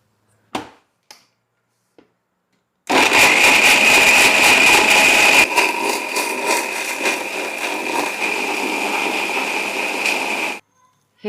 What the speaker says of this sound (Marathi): हे आता एकदम छान फाईन असं आपल्याला मिक्सरला फिरवून घ्यायचं आहे.